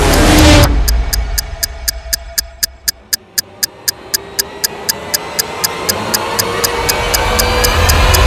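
A bomb timer ticks in sharp, evenly spaced clicks, about three per second, after a brief loud burst at the start, with a low hum rising underneath as the ticking continues.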